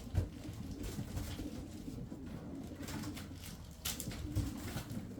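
Kırşehir tumbler pigeons murmur in low, rolling coos nearby, a continuous soft warble with a couple of louder throaty bursts and no talking.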